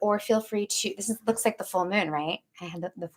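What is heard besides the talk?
No everyday noise stands out behind the speech.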